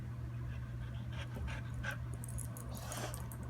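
A small dog pants steadily and close, with short faint whimpers in between while it waits for a chicken nugget, quiet breathy rhythm over a low background hum.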